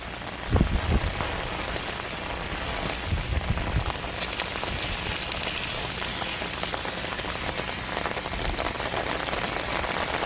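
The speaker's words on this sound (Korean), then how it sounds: "이 소나기인데, 소나기." A sudden rain shower pours down steadily, a dense, close hiss of drops hitting surfaces around an outdoor meat grill on a marble slab, with a few louder low thumps early on.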